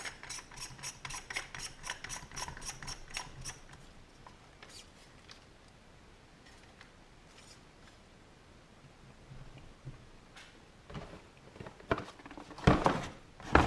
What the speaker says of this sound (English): This is the rifle length buffer tube that we're going to need to install the PRS stock, and that just screws in.